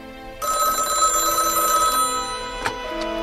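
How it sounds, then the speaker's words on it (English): An old-fashioned telephone bell rings steadily in a 1940s film-noir setting, a bright sustained metallic ring close by, ending with a clack like a receiver being lifted. "Wait for Phyllis to call"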